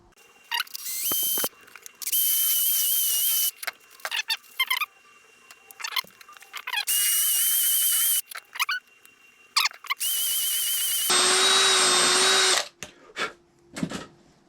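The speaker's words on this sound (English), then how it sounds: "I'll drill that hole first, put it on, tighten it up" A power drill whirs in several loud bursts of a few seconds each, drilling a hole during carburettor replacement on a Piaggio Zip scooter, separated by clicks and handling noise, with a lower-pitched run near the end.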